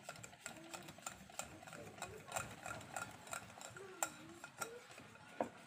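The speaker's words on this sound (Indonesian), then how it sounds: "Ini kita aduk-aduk lagi." Cake batter for kue nona manis being stirred in a bowl just after beaten eggs are added, giving soft repeated scraping swishes and light clinks of utensil on bowl, fairly close and quiet, with faint talking in the background.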